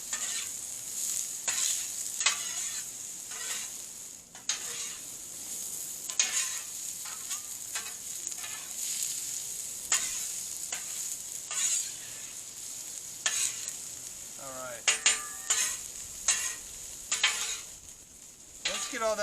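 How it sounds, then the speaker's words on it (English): Shrimp fried rice being stirred in butter in a hot pan, with a constant close sizzle and repeated scraping, clinking strokes of a utensil against the pan throughout. "Let's get these all mixed in there with that butter."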